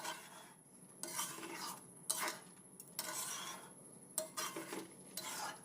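A pot of rice pilaf with coconut oil being stirred, bursts of scraping and clinking of a utensil against the pot in repeated strokes, fairly quiet with short pauses between.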